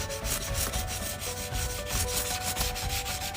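Sandpaper rubs rhythmically over the body of a Tamiya 1/24 Fairlady 300ZX turbo plastic model kit, close and steady rasping strokes repeating about four times a second, with no voices.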